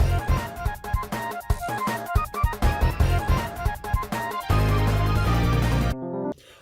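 A track from the Deltarune video game soundtrack, an upbeat electronic track with punchy rhythmic chords and melody, then a sustained section before cutting out abruptly near the end; no voices.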